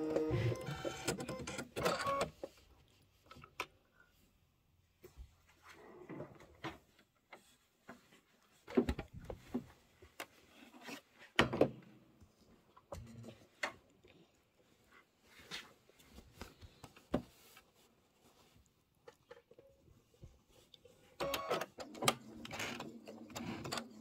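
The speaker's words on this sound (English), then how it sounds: "I'm just gonna sew about an eighth of an inch away from the edge." Sewing machine top stitching ribbon onto a pillow an eighth of an inch from the edge at stitch length 2.5, heard as scattered short bursts of mechanical whirring and ticking separated by quiet gaps.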